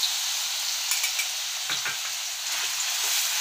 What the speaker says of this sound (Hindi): अब हमारा घी अच्छे से गर्म हो चुका है तो हम पहले इसमें लहसुन और अदरक वाली पेस्ट